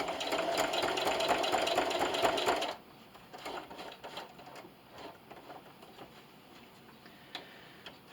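A sewing machine runs fast and loud with rapid rhythmic stitching while sewing a plastic bag dispenser, then stops abruptly, leaving quieter ticking mechanical sounds.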